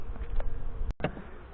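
Honey bees buzzing around a small queenless backyard hive, a continuous close hum with a brief dropout and a few louder passes near the microphone, no voices.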